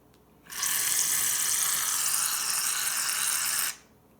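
Colored water pours steadily into a container, a loud, even hissing stream that starts abruptly, runs for about three seconds and stops cleanly, with no talking.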